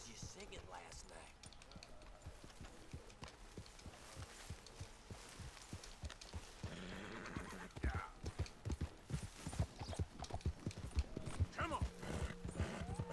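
Horse hooves clip-clopping and galloping in Red Dead Redemption 2, rhythmic thuds growing louder and faster toward the end, with a shouted voice and game background sounds.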